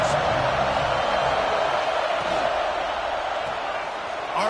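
A college football video game stadium crowd roars in a loud, continuous wash of cheering that holds steady from start to finish.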